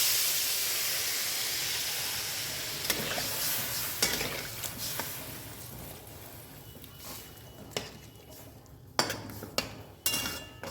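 Water goes into a hot pan of raw mango chutney, raising a hiss and steamy sizzle that fades, followed by scattered stirring clinks and scrapes against the pan.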